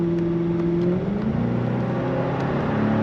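A 2005 Cadillac XLR accelerating from inside the cabin: a steady engine drone rises in pitch, drops briefly at a gear change near one second, then climbs again smoothly, with no talk.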